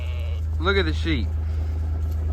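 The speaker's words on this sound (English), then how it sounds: "Look at the sheep" Sheep on a farm bleating at feeding time, two close, wavering calls in quick succession over a steady low hum.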